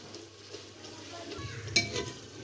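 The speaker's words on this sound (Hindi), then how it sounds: "चम्मच की मदद से टमाटर को अच्छे से मैश कर लेंगे" A spoon mashes tomatoes in a pan of frying masala for dhaba-style chana dal. Soft stirring and scraping run over a low sizzle, with one brief clink of metal on the pan.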